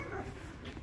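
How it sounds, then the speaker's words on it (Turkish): A small dog gives a quick bark or yip outdoors by a sidewalk, short and muffled against background noise. "Ay sen bana mı havlıyorsun küçük köpek?"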